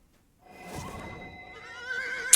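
A horse in Dungeons and Dragons Online gives a drawn-out, quavering whinny that rises and wavers, followed by a sharp, bright click at the very end, with no one talking.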